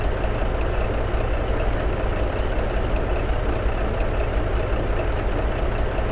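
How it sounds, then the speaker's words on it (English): Detroit diesel engine of a Freightliner Classic truck in American Truck Simulator, a steady, loud low rumble droning on without a break and no voices over it. "I'd say that Detroit diesel does sound good"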